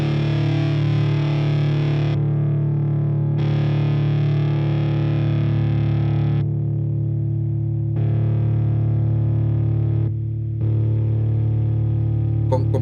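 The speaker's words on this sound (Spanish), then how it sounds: "Con compresor se mantiene muchísimo más el sustain, pero no se nota la diferencia en la dinámica, ya que la distorsión es muy agresiva" A heavily distorted electric guitar through a Line 6 POD HD/Helix with a compressor plays long sustained chords, loud and dense, with brief gaps between changes and no voices.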